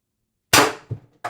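X-68 bolt airgun with a 12-inch barrel firing a 10g ART Hammer round, a single sharp close crack followed by two quick smaller knocks, with silence before it.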